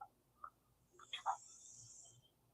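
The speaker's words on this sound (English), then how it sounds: "Dude, these cicadas, man." Cicadas buzz outdoors in a steady, high, hissing drone that swells in for about a second and fades, fairly faint and distant, with a few brief voice-like chirps and murmurs nearby.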